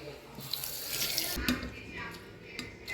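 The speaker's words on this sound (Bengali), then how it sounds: "দাঁড়া আমি ধুয়ে দিই।" Water runs from a tap while something is rinsed under it at close range. The splashing is steady and continuous, with a few brief clatters.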